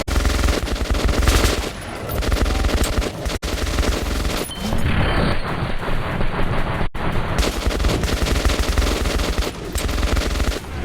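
Gunfire in the Metro 2033 Redux video game: dense, rapid machine-gun bursts fill the clip loudly, with brief pauses and a short lull midway before the continuous firing resumes.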